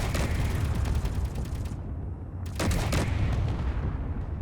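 Assault cannon turrets on a base in the Space Engineers video game fire in a dense, continuous barrage of heavy booming shots, loud and close, dropping briefly to a hush before resuming.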